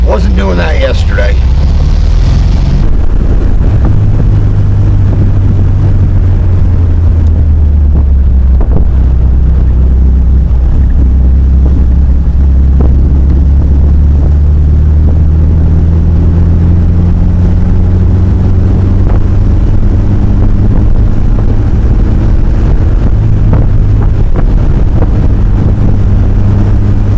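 A 1968 Volkswagen Karmann Ghia pulls away and drives on, a low engine drone rising and falling through gears under heavy wind buffeting, with someone speaking over it.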